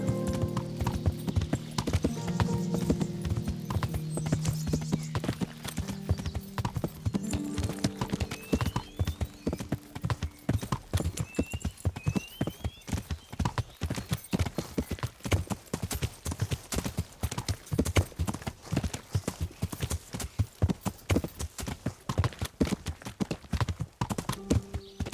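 Steady clip-clop of horse hooves trotting on a hard surface in Kingdom Come: Deliverance, rhythmic and close, with a brief whinny and some low rumbling early on.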